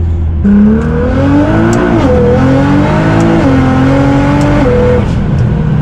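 A flex-fuel Nissan GT-R R35 accelerates hard through the gears, its engine note climbing steadily, dipping briefly at each shift, loud and close from inside the car with no talk.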